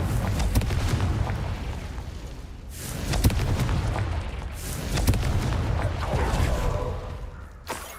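Confringo explosive spell blasts in the Hogwarts Legacy video game, several booming bursts with whooshing tails over a rumbling background, then a brief sharp pop near the end.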